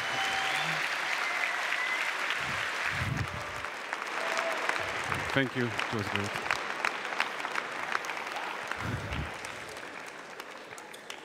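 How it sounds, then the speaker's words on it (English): Audience applause after a talk at a science event in Bratislava: sustained dense clapping from a large crowd fills the whole stretch, with a few brief spoken thanks heard over it. "one more round of applause"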